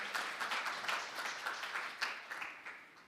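An audience at a new technology certification forum gives a presenter a round of applause, a close, dense patter of clapping hands that rises and falls slightly over a few seconds.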